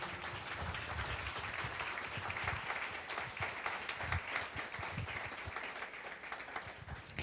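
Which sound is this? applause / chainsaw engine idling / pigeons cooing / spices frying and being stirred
applause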